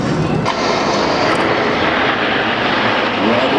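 Red Arrows display jets roar overhead in tight battle formation at the 2018 Scottish International Air Show in Ayr, a loud, continuous broadband engine rush that fills the whole span without letting up.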